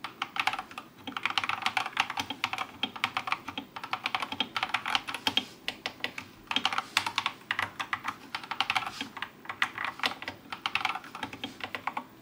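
Rapid clacky typing on an Akko 3098S mechanical keyboard, dense uneven key strikes continuing steadily for several seconds, close and fairly quiet, no speech.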